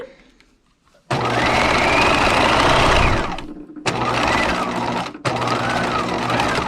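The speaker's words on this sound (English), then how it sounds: "We have 2 shoulder seams to do with a zigzag stitch, stretching slightly." A sewing machine runs zigzag stitches along the shoulder seams of a small Barbie doll top, the fabric stretched slightly. The motor whirs loud and steady in three long bursts, each stopping abruptly, with no talk.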